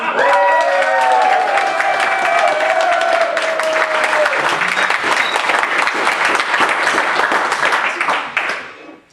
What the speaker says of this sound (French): Montrez-moi ce que c'est que le tonnerre d'applaudissement!